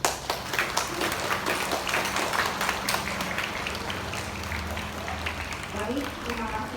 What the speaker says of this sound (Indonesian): Kita berikan aplaus sekali untuk mereka.